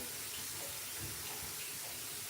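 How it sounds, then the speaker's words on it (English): Tap water running steadily while photographic film is rinsed during home developing, a faint continuous splashing hiss heard alone. "at the moment, I'm just rinsing the film"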